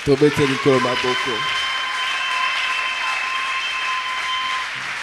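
A church congregation bursts into sustained applause praising the Lord, a steady wash of clapping that follows a brief spoken voice at the start and holds for several seconds.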